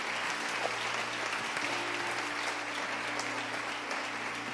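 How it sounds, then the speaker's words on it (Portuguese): A church congregation applauds, a steady wash of many hands clapping at moderate distance, continuous and even with a low hum beneath it and no voices standing out. "Pode aplaudir o Senhor."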